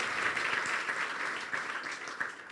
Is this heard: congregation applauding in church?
yes